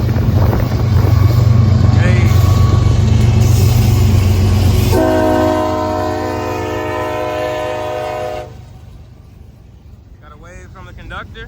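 A CSX freight train running down a street in Tarboro sounds its horn in a loud, sustained chord, with heavy rumble beneath. The horn cuts off and the train noise fades, leaving quieter ambience.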